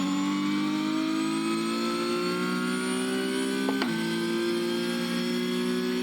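A car engine in a racing sim video game hums steadily at mid revs for several seconds, then briefly spikes and shifts pitch around the middle before settling into a smooth, continuous drone under eased throttle.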